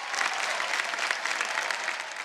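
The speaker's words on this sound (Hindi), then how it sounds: "एक बार विदिप्ता के लिए जोरदार तालियां हो जाए" A studio audience on the Indian Idol stage bursts into loud, sustained applause, a thick, even clatter of many hands that carries through without pause.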